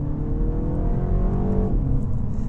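A 2024 MINI Cooper S engine revs loudly and close, its pitch climbing smoothly through a gear before a brief shift drop, with no talking.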